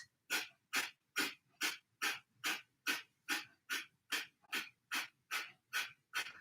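Forceful breaths are pushed out through the nose in a steady, even series of about fifteen sharp, breathy puffs, close up and evenly spaced with short silences between, during a yoga breathing exercise.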